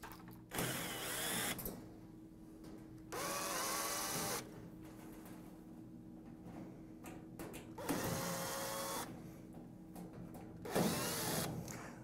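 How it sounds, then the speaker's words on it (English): A power screwdriver whirs in repeated bursts of a second or so, with pauses between, as screws are backed out of the rear panel of a Moffat appliance; close, mechanical and without talk. "The next step will be to remove all the screws on the back panel."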